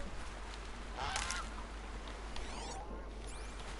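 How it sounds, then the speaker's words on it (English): A goose in the video game Horizon honks a few times, sharp and fairly close, over a steady hiss of background noise. "That was a goose."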